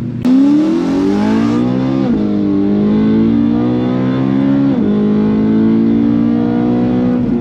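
BMW M3 E92 with its naturally aspirated V8 revving hard, a loud, close, sustained roar whose pitch climbs and dips through several rev changes with no talk over it.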